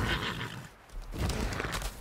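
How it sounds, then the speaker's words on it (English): Horse neighs and whinnies in the video game Lost Ark as a mount is summoned, with a loud whinny at the start and another burst of snorting and hoof noise toward the end. "So let me just get on my horse again."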